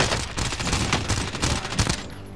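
Rapid bursts of automatic gunfire rattle through a Call of Duty: Warzone firefight, dense overlapping shots going on nonstop for a couple of seconds at close range.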